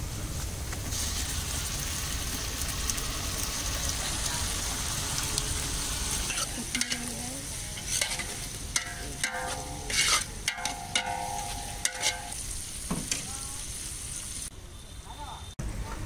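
Tomatoes sizzle and fry in a pan with spices, a steady crackling hiss with occasional stirring scrapes, fairly close and continuous throughout.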